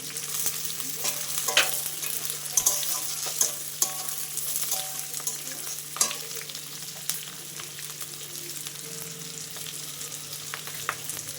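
Chopped green chillies frying in a pan for chilli chicken, a dense continuous sizzle with repeated scraping and tapping as they are stirred, close and fairly loud, no voices.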